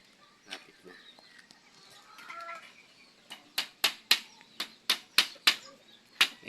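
Chicks chirp in a rapid series of sharp, high peeps beside a homemade wire cage, close by and getting more regular toward the end, with quiet background sounds earlier on.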